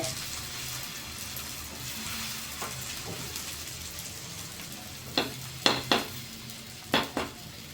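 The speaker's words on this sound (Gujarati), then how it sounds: "પુડલાને ધીમા ગેસ ઉપર જ પાકવા દેવાના, જેથી કરીને સરસ સોફ્ટ બને." Dudhi pudla, a thick bottle gourd and vegetable pancake, cooks in a pan over a low flame with a soft, steady sizzle, and a few sharp utensil clinks and scrapes come near the end.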